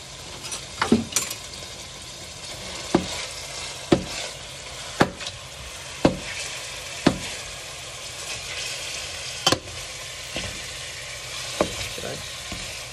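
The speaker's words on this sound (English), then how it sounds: "You can hear it sizzling." Steady broadband sizzle of ground beef frying in a pan for nachos, with a few sharp clinks of a utensil scraping and tapping the pan throughout.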